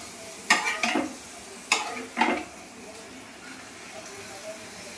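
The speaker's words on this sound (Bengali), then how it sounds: "এরকম করে সব পাঁপড়গুলো ভেজে নিই।" Papad frying in hot oil, heard as a few short, bright bursts of sizzle and crackle around a second apart, with quieter stretches in between.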